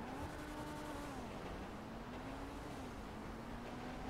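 Karin S95 sports car in the GTA video game accelerating, a steady engine drone with a rising and falling pitch held throughout, loud and continuous with a sharp burst at the very end.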